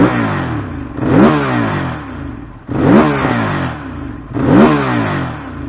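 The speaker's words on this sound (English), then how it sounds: "The exhaust note, baby," A Ducati Monster 821 motorcycle revs its exhaust three times in a row, each blip rising sharply in pitch then falling back to idle, loud and close with no voices.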